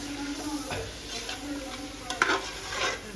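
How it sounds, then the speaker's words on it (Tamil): Mutton biryani masala with yogurt is stirred in a hot, sizzling pot, with a spoon scraping and clattering in irregular strokes over a constant close frying hiss. "தயிர் ஆட் பண்ணி அதுவும் சேர்த்து கிளறி விடுவோம்."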